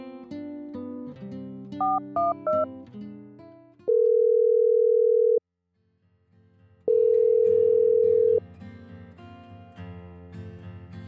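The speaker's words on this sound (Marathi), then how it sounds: "शिवाने त्याचा फोन काढला आणि तिला फोन लावला" A phone call rings out: two long, steady ringback tones separated by a pause, after a short burst of beeping, all over background music.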